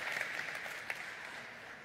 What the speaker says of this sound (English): Let's have applause for them.